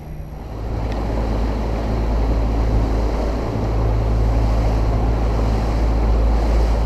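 Mercury outboard boat engine running steadily through its break-in on a muddy river, a continuous low rumble with wind and water wash mixed in, held at a restrained, even pace.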